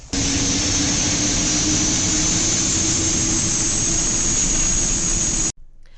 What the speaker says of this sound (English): Once our engines were fired up